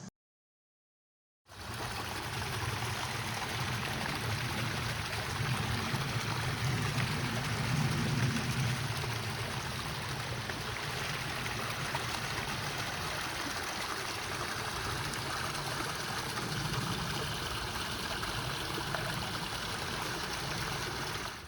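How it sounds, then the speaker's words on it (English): A groundwater-fed stream at Black Spring in Bedford, Pennsylvania, flows with a continuous close babble and rush of water that begins after a moment of silence and holds steady throughout. "These nice groundwater fed streams and the little ravines in between the foothills."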